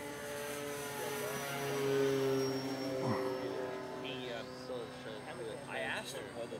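RC model airplane engine droning through an aileron roll overhead, a steady buzzing hum that swells and fades slightly at moderate distance, with people talking over it.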